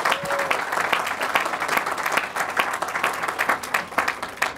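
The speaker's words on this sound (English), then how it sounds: "Let's have a little round of applause." A crowd applauds at the 40th anniversary birthday celebration of the New River Gorge Bridge, with dense, steady clapping that holds at an even, lively level throughout.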